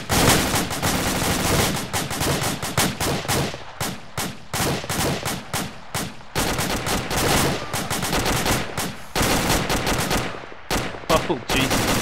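Dense gunfire in the tactical shooter game Valhalla Tactical, loud rapid bursts and automatic volleys crackling almost without pause, with short gaps between strings of shots.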